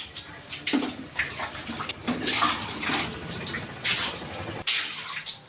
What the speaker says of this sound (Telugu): ప్రజెంట్ అయితే వాటర్ అయితే పోస్తున్నాను